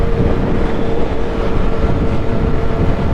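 Motorcycle tires scraping and rumbling over a rough, broken road lane: a loud, continuous dense roar and grinding noise throughout, steady with no breaks and no voices.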